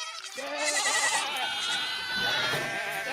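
A baby goat bleats in a radio commercial: a few wavering, high-pitched cries sit close and clear over a faint background bed.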